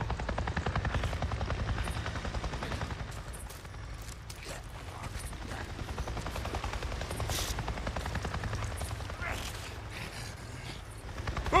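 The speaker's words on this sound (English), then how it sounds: "I just saw a goddamn chopper!" Helicopter from the video game Days Gone flying overhead, a loud steady rotor chop running through the whole stretch, with a brief swell near the end.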